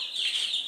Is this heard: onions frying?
no